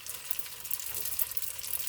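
Breakfast spring rolls lightly browning in hot frying oil, a soft continuous sizzle and crackle, steady and close, with no voices.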